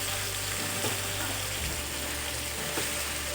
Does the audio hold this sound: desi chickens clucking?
no